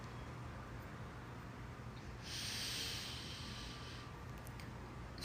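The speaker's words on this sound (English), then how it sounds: "Nice big deep breath. And exhale." A deep breath is drawn in and then let out during a yoga session, a soft airy rush that swells in the middle of a steady background hiss, with no talking.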